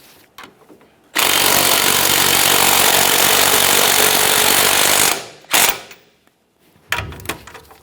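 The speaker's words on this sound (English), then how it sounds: "Now we'll go ahead and tighten up our mounting nut." A power tool, likely an impact wrench, tightens the sway bar link mounting nut on the front strut of a 2012-2015 Honda Civic, one loud sustained burst of about four seconds, followed by brief metallic clanks.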